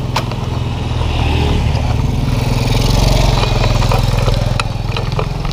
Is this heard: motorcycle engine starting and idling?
yes